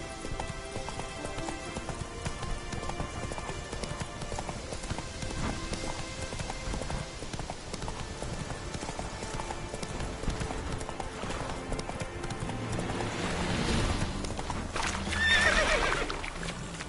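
The horse Roach in a PS4 game gallops with a steady stream of clip-clopping hooves over a long stretch, then gives a loud whinny near the end; no one talks.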